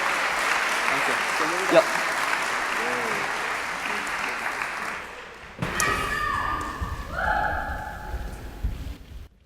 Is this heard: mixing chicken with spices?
no